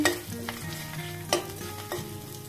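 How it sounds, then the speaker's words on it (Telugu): Dried red chillies drop into hot frying oil for a Telugu pakodi curry, giving a steady close sizzle with stirring clinks and a few sharp scrapes, no voices. "ఇప్పుడు ఎండుమిర్చి వేస్తున్నానండి."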